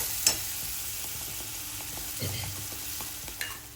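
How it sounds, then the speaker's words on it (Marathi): Gravy sizzles in a pan with onions for aloo matar paneer while a spoon scrapes and stirs it now and then, a steady soft frying hiss with a few sharp clinks. "आता ही आपण ग्रेव्ही टाकून घेऊया. छान आता ग्रेव्हीला कलर सुटू देऊया."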